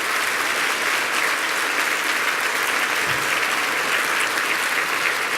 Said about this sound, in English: join me in a round of warm applause for Dennis and his staff